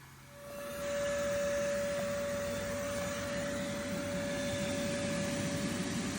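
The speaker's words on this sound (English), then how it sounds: "we just have to hope our vac doesn't overheat too quickly" A vacuum sucks up wasps from a yellowjacket ground nest, its motor ramping up within the first second into a loud, steady drone with a constant whine that runs without a break.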